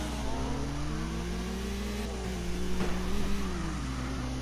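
A car engine in the video game CarX Drift Racing revs and holds a steady droning tone while drifting, pitch wavering up and down, loud and close with no talk.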